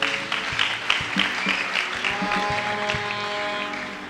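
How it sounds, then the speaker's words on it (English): Congregation clapping at a lively church celebration service, dense steady applause filling the space with a few louder claps standing out, backed by sustained musical tones. "Clap for Jesus."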